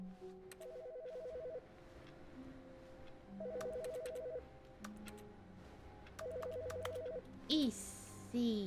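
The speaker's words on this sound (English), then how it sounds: "I hear telephone." A telephone rings in repeated electronic trilling bursts separated by pauses, fairly faint, with a short voice and a few other sounds near the end.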